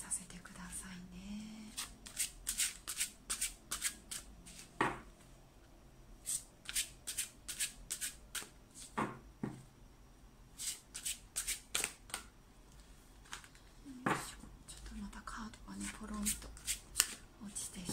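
Tarot cards are shuffled close up in quick bursts of crisp riffling and slapping, pausing between rounds, while someone talks softly in a near-whisper.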